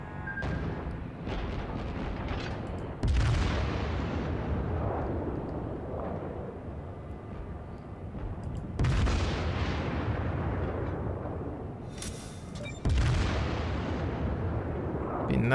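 Warship main guns in the World of Warships naval battle game fire in three heavy, loud salvos spaced several seconds apart, each a deep boom followed by a long rumbling decay over steady engine and sea noise.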